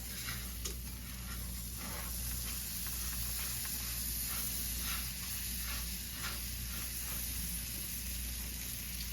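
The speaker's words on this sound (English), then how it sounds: "I'm going to go ahead and add in about a tablespoon of butter, and I'll melt that down a little" About a tablespoon of butter melts in a pan with a steady soft sizzle and faint crackle, alone and fairly quiet throughout.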